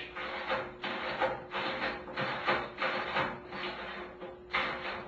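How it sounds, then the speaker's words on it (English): A ratchet and socket turning to raise a workbench: repeated rasping ratchet strokes in an uneven rhythm of about seven bursts, close and fairly quiet. "I'm going to use my ratchet and socket to raise the bench"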